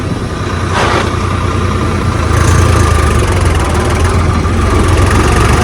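A new Swaraj tractor pulling a trolley climbs a slope, its heavy engine droning loudly and continuously up close, a low steady rumble with no pause throughout.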